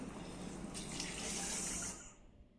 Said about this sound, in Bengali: আর অল্প একটু গরম জল দেব